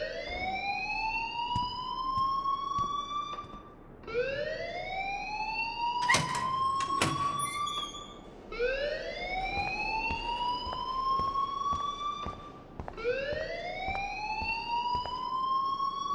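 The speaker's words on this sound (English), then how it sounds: "please turn off that alarm since that's your job" Fire alarm in the Life Is Strange video game: a loud electronic siren that sweeps upward in four long rising wails, each about four seconds, with a brief clatter between them and no talk.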